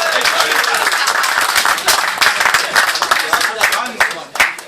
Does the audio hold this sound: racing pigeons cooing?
no